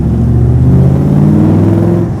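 Big Ford V8 engine in an AC Cobra replica revving, a loud, steady low rumble held close up for about two seconds with no talk over it.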